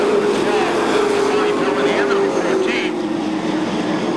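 Pro stock race cars at Seekonk Speedway, a dense sustained engine roar from a pack racing down the front straightaway, loud and steady throughout under an announcer's voice.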